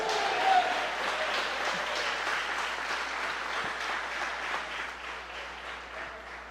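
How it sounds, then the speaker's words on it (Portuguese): A church congregation clapping in praise of God, dense sustained applause from a large crowd filling the room at an even level throughout. "Se você crê, glorifique a Deus com as palmas."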